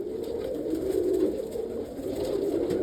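Roller pigeons in a loft coo softly and steadily close by, a low continuous murmur of many birds with faint background noise.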